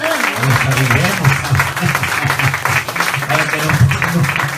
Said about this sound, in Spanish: podemos darle unas palmas al Señor esta mañana para que nos avivemos